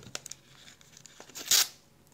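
The adhesive seal strip of a Perfect Fit Innovations trading card sleeve is peeled back, starting with a few small ticks and crinkles before a sharp, bright rip at close range, with no one talking.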